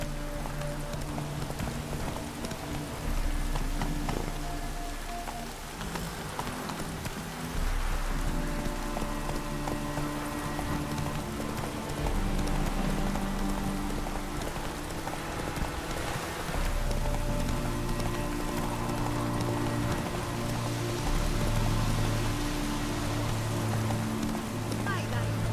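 Roach the horse's hooves clop steadily through rain in The Witcher 3: Heart of Stone, a continuous patter of rain over the rhythmic footfalls, with background music and a voice speaking now and then.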